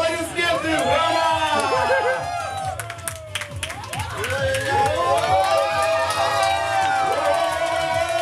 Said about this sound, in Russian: Под ваши аплодисменты, Роман!